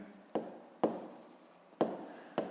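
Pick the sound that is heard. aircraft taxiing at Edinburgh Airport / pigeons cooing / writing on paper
writing on paper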